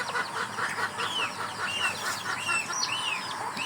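Chickens cluck and call on a farm alongside ducks and geese, a dense continuous chorus of squawks and chirps at moderate distance with no talking.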